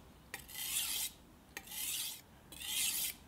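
A kitchen knife blade is drawn across a sharpening stone in three long, even rasping strokes, each about half a second to a second long, with short pauses between them. The strokes are close and quiet, with no talk.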